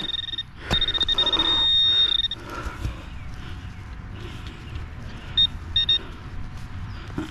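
A metal detecting pinpointer beeps during a dig for a 1920s pin, giving a steady high tone for over a second followed later by a few short, separate beeps over outdoor noise and rustling.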